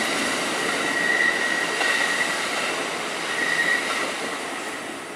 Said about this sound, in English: Hey, we've got us an Amtrak.